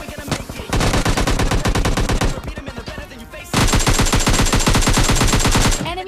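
Rapid automatic gunfire in a battle royale shooter match set in a stadium, with long, loud sustained bursts separated by a short pause, close and dominant throughout.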